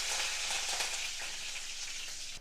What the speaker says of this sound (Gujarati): અડધી ચમચી જીરું, 2 થી 3 સૂકા મરચાં, ચપટી જેટલી હિંગ અને મીઠા લીમડાના પાનનો વઘાર કરી લઈએ।